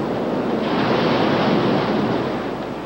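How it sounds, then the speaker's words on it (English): Powerful Indian Ocean waves break over the coral reef off Grajigan Bay in a loud, continuous, rushing wash of surf, with some wind and no voices. "Waves are powerful out there."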